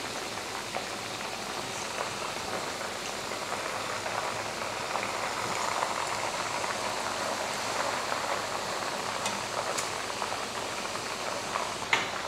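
A whole spiced chicken fries in oil on a medium flame as a patakha chicken roast, giving a steady, even sizzle and crackle with a few louder pops near the end.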